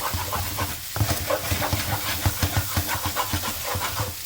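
Egg is stirred aggressively into rice in a hot pan, giving a steady sizzle and hiss broken by rhythmic scraping and clacking strokes of the utensil, close and fairly loud.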